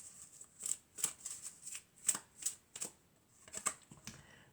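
Tarot cards are shuffled and drawn close by, giving a quiet run of crisp flicking and riffling bursts with short pauses in between and some soft handling noise.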